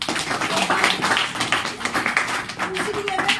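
An audience at a Vestige marketing plan event claps continuously, a dense patter of many hands with a voice speaking over it.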